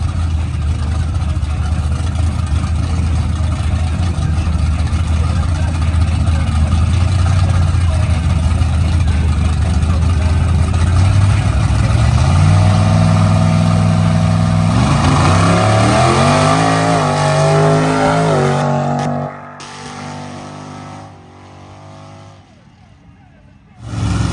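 Dirt drag racing buggies, diesel and gas, launch down a dirt track with a loud rising engine roar that climbs through gears, peaks, then fades as they pull away, leaving quieter crowd noise.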